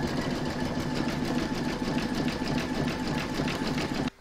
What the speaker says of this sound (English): I'm now going to stitch round number 10, and that's going to do the satin stitch around the face